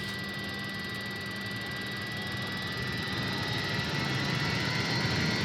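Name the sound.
Avro Vulcan jet engines throttling up in flight simulator game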